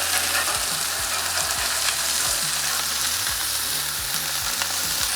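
Burger patties fry with a loud, steady sizzle on a Blackstone griddle, while a metal spatula scrapes the hot steel in repeated strokes about once a second.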